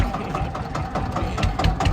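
A tractor engine runs at a loud, steady idle with a rough, low knocking throb near a field, and some voices are faintly audible under it.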